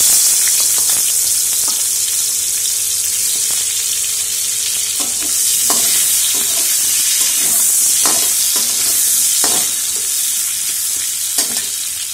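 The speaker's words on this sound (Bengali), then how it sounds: "এবার ওই তেলের মধ্যেই আমি আলু ভাজা করে নেব" Potatoes frying in oil in a pan after fish, a loud continuous sizzle with crackling and intermittent utensil scrapes and knocks, heard up close with no voices.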